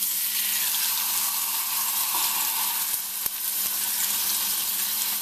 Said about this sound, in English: I'm going to place the roast same side down. Once I place it, I'm going to leave it there